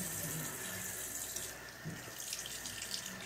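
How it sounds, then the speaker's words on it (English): Water runs steadily from a bathroom sink tap while a washcloth is rinsed under it, a continuous close hiss with no talk over it. "take this washcloth and rinse it"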